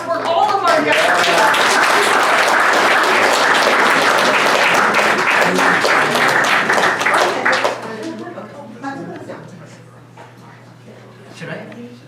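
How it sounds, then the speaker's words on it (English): An audience at a Comics in the City event gives its guests a loud, dense round of applause lasting about eight seconds, then it fades into scattered claps and low crowd murmur. "let's give a big round of applause for all of our guests."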